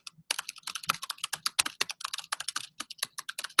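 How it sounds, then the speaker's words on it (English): Rapid, uneven keystrokes on a computer keyboard, close and fairly loud, clicking along steadily with short pauses and no one talking. "So we're sort of typing in another tiddler"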